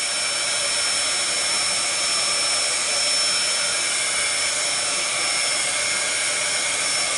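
A heat tool blows continuously over wet watercolor on a card, giving a steady, even whirring hiss of moderate loudness with no breaks or talking.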